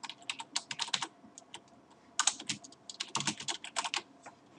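Someone types a layer state name on a computer keyboard while working in AutoCAD, with quick, close, clicky keystrokes in irregular bursts and a short pause partway through.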